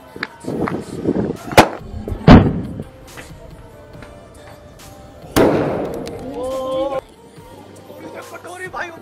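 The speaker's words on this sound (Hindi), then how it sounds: "तो गाइस अब हम करने वाले हैं टेस्टिंग बुलेट बम के साथ।" Diwali bullet bomb firecrackers bursting in sharp, loud bangs, several spaced blasts with one big crack midway and crackling tails, while people talk and shout throughout.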